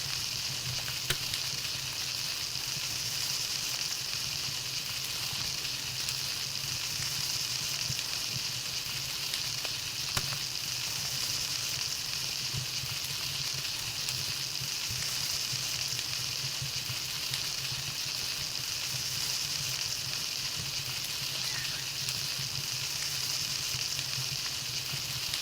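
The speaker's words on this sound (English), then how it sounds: "But I love cooking baked berries on the fire." Baked berries cook over a fire in Palworld with a steady, even sizzle like frying. It stays constant throughout at moderate volume, and no one speaks.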